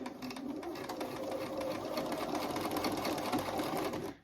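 A domestic sewing machine runs steadily for about four seconds, back-stitching slowly through a thick part of fleece on a child's hat, with a continuous close mechanical whir that stops at the end.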